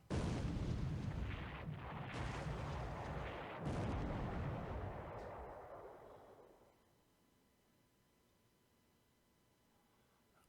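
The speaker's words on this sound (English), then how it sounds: "One torpedo hit and sunk." Torpedo hit sinking a ship in a naval war video game, a long loud rumbling explosion that rolls on for several seconds before fading into quiet.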